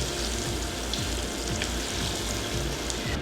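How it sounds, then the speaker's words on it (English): A Monte Cristo sandwich frying in hot oil, a dense, even sizzle heard close and constant for a few seconds with no talk. "you're going to put the sandwich into the fry oil"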